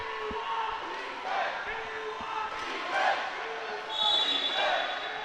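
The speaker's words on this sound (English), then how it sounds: "Crowd giving the home team some support here." A crowd at a youth water polo championship bronze medal match gives the home team rising cheers and shouts, with a commentator talking over the arena noise and a few dull thuds in the background.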